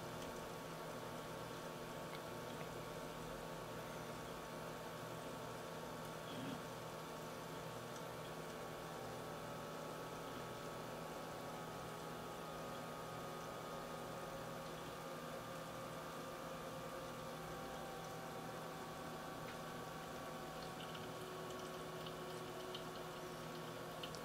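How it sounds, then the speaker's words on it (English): Corsair H220 water cooling pump in a computer running alone at full speed, around 3000 RPM, giving a steady, faint, continuous hum and whine with a constant tone and no talking. "And that is the pump by itself running at full max speed."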